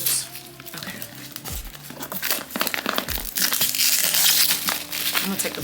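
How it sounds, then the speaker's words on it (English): Plastic wrapping crinkles and tears in close, rustling bursts, with a voice speaking intermittently underneath. "I'm gonna take the plastic off of both"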